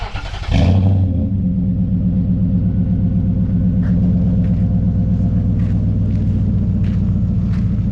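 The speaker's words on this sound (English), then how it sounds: "We'll do a cold start. You'll be able to hear it idle." A Nissan Titan V8 with an aftermarket exhaust cold-starts with a sharp crank and catch, then settles into a loud, steady, throaty idle with a deep rhythmic burble close to the tailpipe.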